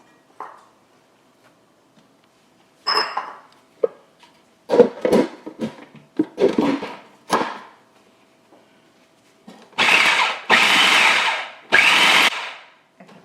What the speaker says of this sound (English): I'm going to add half of this ground beef in my food processor along this soaked bread slices